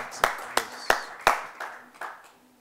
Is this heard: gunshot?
no